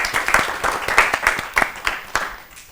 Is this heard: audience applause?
yes